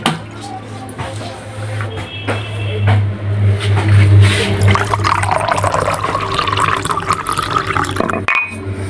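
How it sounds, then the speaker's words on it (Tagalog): Water is poured into a container in the morning, a close, bubbling stream that rises in pitch as the vessel fills, with low household noise around it. "Dapat ganito kasi kami pag umaga, pagkagising, inom talaga ng tubig"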